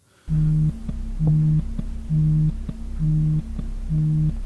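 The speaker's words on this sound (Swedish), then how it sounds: "Det är ju min mobil som ringer." Repeating electronic tone pulses in a steady on-off rhythm, a mobile phone ringing close by, five bursts with no talking.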